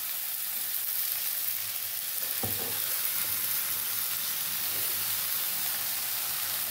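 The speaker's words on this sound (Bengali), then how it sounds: "চলো এবার দিয়ে দেবো মাছের ডিমটা।" Fish roe frying in spiced oil over low heat, a steady broadband sizzle with a brief louder spatter burst midway as the roe hits the pan, no voices.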